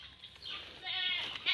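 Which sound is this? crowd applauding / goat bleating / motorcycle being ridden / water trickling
goat bleating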